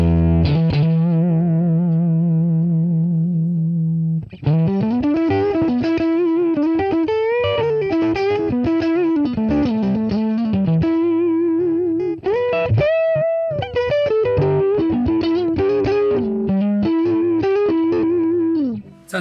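Electric guitar played through a NUX Trident multi-effects pedal on a thick, distorted lead tone, a sustained held note followed by a flowing melodic phrase with bends and vibrato, loud and alone.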